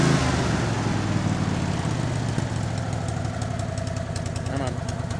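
An old tractor engine idles after its jammed fuel cutoff solenoid was freed, running steady and rough with an uneven, knocking beat close by.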